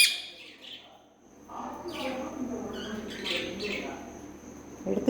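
A peacock being fed calls with several short, bright cries over quiet background, with soft voices nearby.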